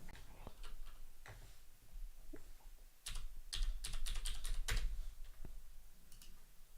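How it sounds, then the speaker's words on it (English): Commands are typed on a computer keyboard, irregular bursts of soft key clicks that quicken into a dense flurry midway, fairly quiet and with no talking. "Dude, I'm just typing in what it tells me to."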